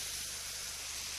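Sauce sizzling around skate wings in a frying pan as it is shaken, a steady close, low hiss of frying with no voices.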